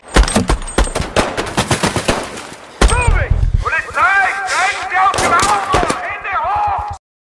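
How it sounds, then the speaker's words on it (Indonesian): Gunfire from a film shootout with police, loud rapid bursts of shots in quick succession, then sustained firing mixed with shouting voices before it cuts off abruptly. "tiba-tiba kepolisian datang menghadang dan terjadilah adu tembak yang mengakibatkan tewasnya Bobby."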